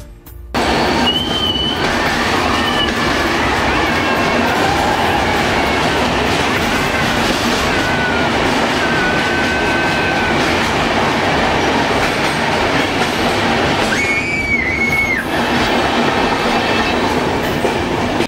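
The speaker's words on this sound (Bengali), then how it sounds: "এরপর ট্রেন চলে গেল একটা টানেলের মধ্যে। তোমরা জাস্ট একবার আওয়াজগুলো শুনো।" A passenger train on the Visakhapatnam to Araku Valley hill line roars through a tunnel with a loud, steady rumble of wheels on rails and occasional high wheel squeals throughout.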